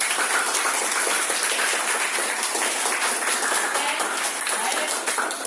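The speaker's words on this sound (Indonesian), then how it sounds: "kita tepuk tangan bersama-sama biar kita semangat" A group claps together in a sustained burst, the applause loud and close from start to finish.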